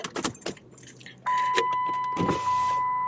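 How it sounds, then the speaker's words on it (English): Keys jangle in a car ignition, then the engine turns over and settles into a steady idle hum that carries on to the end. "Let me turn the car on."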